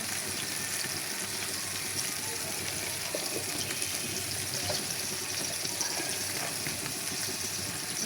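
Turmeric and chili powder sizzle in a pan of okra, a constant close hiss and crackle that holds steady throughout.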